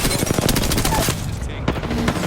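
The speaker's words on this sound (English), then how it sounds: "Ready to I'm under fire." Rapid automatic gunfire in the video game Apex Legends, loud, dense bursts of shots with a brief lull midway, followed by more firing.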